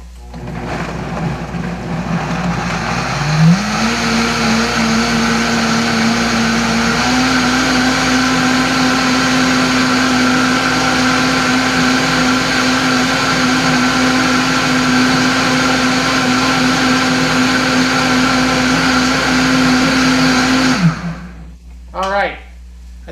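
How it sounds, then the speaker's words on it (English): A kitchen blender purees red salsa (salsa roja), a loud steady whir that rises in pitch after a few seconds and holds for about eighteen seconds before stopping abruptly, followed by brief clatter. "I'm gonna blend this. Hold on, give me a second, there's gonna be noise."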